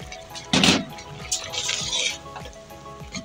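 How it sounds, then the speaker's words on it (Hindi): About a cup of cooking oil is poured into a simmering chicken stew in a pan. A brief, loud splashing rush gives way to softer bubbling and liquid movement. "तो इस पॉइंट पे हम इसके अंदर 1 प्याली ऑयल लेंगे,"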